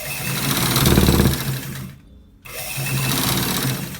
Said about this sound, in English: So guys, we are stitching it to the down part.